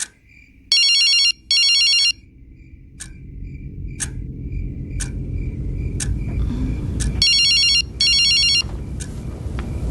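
A flip phone ringtone in a household scene from a short horror film, bright electronic ring bursts repeating in pairs, loud over a growing low rumble and faint intermittent beeps.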